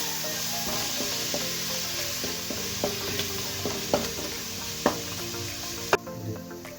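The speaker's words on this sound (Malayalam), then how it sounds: "ഇഞ്ചി വെളുത്തുള്ളി പച്ചച്ചായ ഒന്ന് മാറണം, അതിനുവേണ്ടി നന്നാക്കിയിട്ടൊന്ന് പച്ചച്ചായ പോകുന്നവരെ ഒന്ന് ഇളക്കി കൊടുക്കുക" Ginger and garlic being stirred and sautéed in a pan for beef curry: a steady sizzle underneath repeated scraping stirs, with several sharper clacks of a spoon against the pan.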